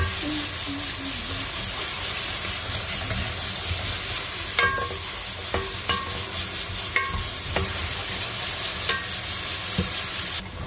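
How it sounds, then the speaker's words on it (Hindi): Ginger, garlic and green chilli paste frying with onions in a pan, a steady close sizzle with intermittent spoon scrapes and light knocks as it is stirred, no voices. "अभी हमारा अदरक लहसुन जो हमने डाला था वो भी गोल्डन हो गया है। इसको हिलाते रहना है"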